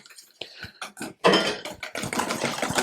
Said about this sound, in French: on va le mettre dans notre crème de coco que je suis en train de fouetter